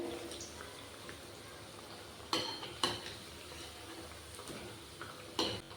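Thekua for Chhath puja fry in oil over a low-to-medium gas flame, a soft continuous sizzle broken by a few sharp utensil clicks and scrapes as the pieces are turned.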